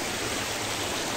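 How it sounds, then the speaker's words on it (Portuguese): A forest stream on rural land rushes steadily in a dense, even hiss of flowing water, loud and close, uninterrupted for the brief moment with no voices. "Esse aqui é o ribeirão que depois desce pra Vila Itopava ali."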